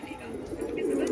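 Pigeons at a home loft give a short, low murmuring coo that swells slightly, close and moderately loud.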